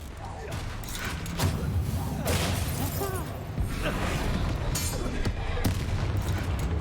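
Booming spell blasts and crackling impacts from a fight with a troll in the video game Hogwarts Legacy, a dense run of loud bursts with thuds, a voice talking over the battle.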